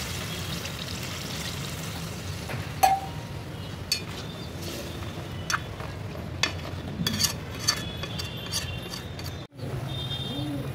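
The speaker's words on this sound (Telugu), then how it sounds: "ఒక పావు గ్లాసు నీళ్ళు అయితే వేసుకుంటున్నాను." Water pours steadily into a pan of chicken pulao with a soft hiss, broken by a few light clinks of a utensil.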